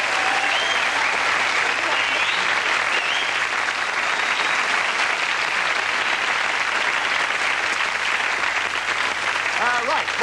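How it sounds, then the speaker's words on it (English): Studio audience applause for the 1987 BBC comedy sketch show Alas Smith and Jones, a dense, steady roar of clapping that carries loud and unbroken for the full stretch, with a few voices calling out faintly within it. "Can we have a round of applause?"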